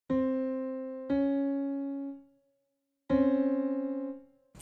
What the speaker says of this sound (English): If you put that up a couple octaves on a piano, you get this jarring, like nails on a chalkboard sound.